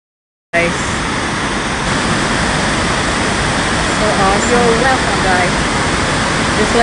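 Burney Falls (McArthur-Burney Falls) waterfall heard up close, a loud, steady broadband roar of rushing water starting abruptly and continuing without pause, with faint voices under it.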